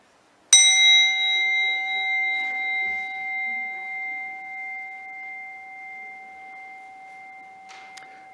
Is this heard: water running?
no